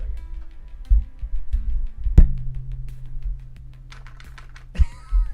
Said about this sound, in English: Your mic's picking up the keyboard really bad for some reason.